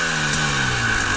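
A cold motorcycle engine on snowy ice roars steadily as the throttle is twisted, a close, sustained revving drone with a slight bump in pitch partway through.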